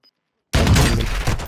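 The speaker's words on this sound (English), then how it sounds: "That was a hell of a shot" Gunfire in Call of Duty: Modern Warfare II erupts after a brief silence as one loud, close, sustained burst of shots that fills the rest of the moment.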